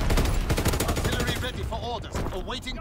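Video game artillery firing for full effect: a dense, loud barrage of rapid overlapping blasts and gunfire for the first half, then thinning into scattered shots with radio-style voice chatter over it.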